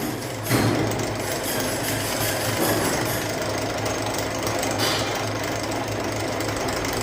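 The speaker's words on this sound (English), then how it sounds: "press the side and do the drilling operation" A drill bores through sheet metal in a school workshop practical with a steady, grinding mechanical drone running throughout, fairly loud and continuous without speech.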